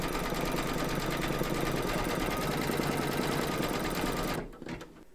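An embroidery machine stitches round six of an in-the-hoop crazy patch quilt block in cream thread, a steady loud rapid needle chatter running evenly for over four seconds before it abruptly stops into near quiet.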